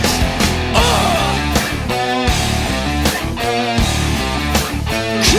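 Heavily distorted electric guitar plays the chorus riff of a song in an alternative rock lesson, a loud, dense chugging pattern with sharp accented stabs and no talking.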